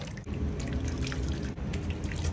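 Cold water splashes and trickles steadily close by as a face is washed by hand in the heat, a busy running wash with brief breaks and no talking.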